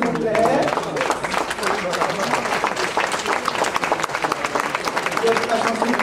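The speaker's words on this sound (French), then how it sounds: "Applaudissez-les, s'il vous plaît." An audience at a civic ceremony in Pointe-à-Pitre, Guadeloupe applauds a school delegation, with dense, continuous clapping throughout and voices mixed in beneath it.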